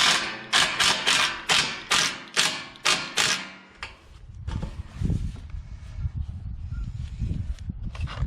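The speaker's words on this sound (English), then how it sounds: "Just screw it on in there." Screws drive a side panel into an above-ground Hügelkultur garden box, one screw in each valley: a run of rapid, loud mechanical bursts in quick succession, then a lower, rumbling clatter of handling.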